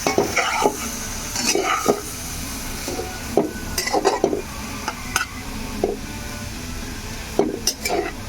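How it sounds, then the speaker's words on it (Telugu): Chicken pieces fry in oil in a pan for chicken pickle and are turned now and then, a steady sizzle punctuated by repeated scrapes and clinks of the spatula against the pan. "అప్పుడప్పుడు ఇట్లా మధ్యలో మనం తిప్పుకుంటూ ఉండాలి"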